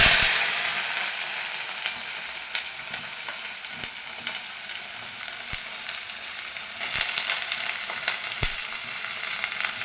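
Broccoli frying in a pan, a steady close sizzle with scattered sharp clicks and scrapes from stirring, loudest at the start and running on without talk.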